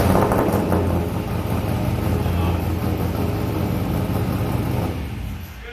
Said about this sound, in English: Good bit of revs.